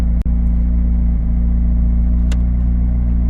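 A McLaren 765LT engine drones steadily while the car drives, a loud, low, continuous rumble heard from inside the cabin, with one brief sharp tick near the start.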